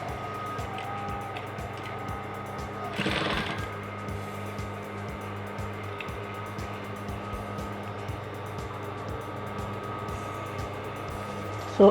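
Sewing machine stitching along a marked line on a shirt placket. It keeps up a steady, fairly quiet mechanical whir with a rapid regular ticking, and a short louder burst comes early on.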